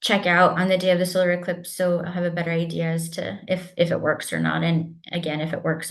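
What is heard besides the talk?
None of the usual background noises is heard.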